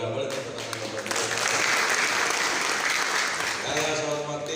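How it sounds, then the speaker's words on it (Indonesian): Clapping from an audience at an Indonesian official welcoming ceremony for a provincial delegation in Barito Timur, Central Kalimantan. A burst of applause swells in the middle while an amplified voice talks through a PA at the start and end. "boleh tepuk tangan Kapolres"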